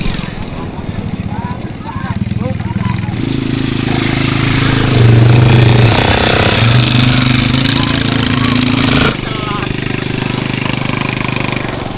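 A loud ATV engine drones and revs steadily for the whole stretch on a beach at Pantai Kembar Terpadu, Kebumen, with people talking over it at times.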